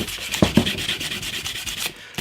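A cloth wipes briskly across a sanded Telecaster guitar body, giving rapid rhythmic rubbing strokes with a couple of louder scuffs, close and alone.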